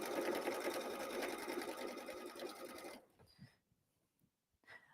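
A sewing machine stitches fabric pieces for a holiday pillow, running in a steady, fast whir for about three seconds before stopping, followed by a few faint clicks and handling sounds.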